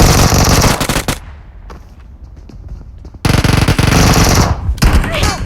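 Automatic gunfire in a video game comes in two loud, sustained bursts, separated by a quieter gap with faint scattered noise.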